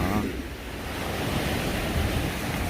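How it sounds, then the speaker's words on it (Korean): Ocean waves crash steadily on Jeongan beach on the East Sea coast, a loud, continuous broadband roar with no pauses and no voices. "파도 치는 동해 앞바다 정안 해변을 보고 계십니다"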